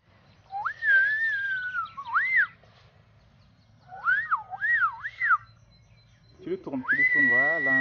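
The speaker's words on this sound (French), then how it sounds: "Tu ne sais pas siffler ?" A person whistles on Mayotte, in three bursts of rising and falling notes with pauses between, close and fairly loud over a low background rumble; the last burst overlaps other voices.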